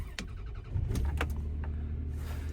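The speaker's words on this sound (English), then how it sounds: "start up your car" A car engine cranks briefly with a few clicks and whirs, then catches into a low, steady idle rumble, close and without talk.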